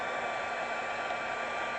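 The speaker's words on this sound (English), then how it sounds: "don't put a heat gun on your gel plate" A heat gun blows hot air over a gel printing plate, making a steady, even whooshing roar with no breaks.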